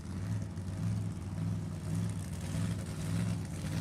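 An AA supercharged funny car engine at a drag race idles and revs in a loud, continuous, rumbling roar. The sound pulses in slow surges and carries no speech.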